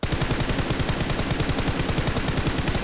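Shooter video game gunfire from an Uzi rattles in a loud, continuous automatic burst at a fast, even rate, with no talk over it.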